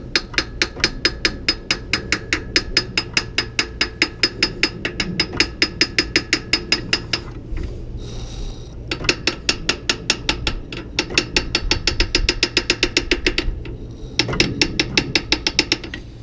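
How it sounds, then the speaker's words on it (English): Steady, rapid metallic tapping on a socket with a hammer while working on the 3.5L V6 of a 2005 Dodge Magnum during a timing belt and water pump job, in bursts with short pauses between. "I don't have enough room in here for this hammer and a socket, so I'm just going to try and tap."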